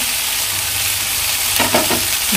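Tomatoes frying with chicken for a chicken cocktail chilli fry, a loud, steady sizzle close by, with a brief cluster of stirring clatters near the end and no talking.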